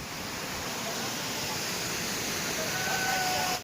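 Waterfall in Kutch where people bathe: a steady, dense roar of falling water fills the whole stretch without a break, loud and close, with no clear voices over it, ending abruptly.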